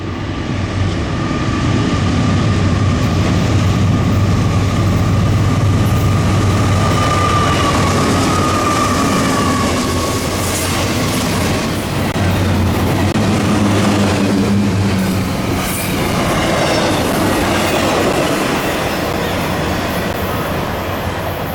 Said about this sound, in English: it wasn't too long after we arrived before we got our first train